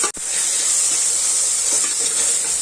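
Vegetables, including beans, sauté in hot oil for meal maker pulao with a loud, steady, close hissing sizzle. A brief dip comes at the very start, then the sizzle runs unbroken with no talking.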